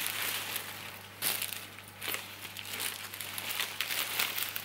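Wrapping paper and foil rustle and crinkle as they are folded around a flower bouquet, a close, continuous crackling with sharper crumpling bursts over a low steady hum, with no talking.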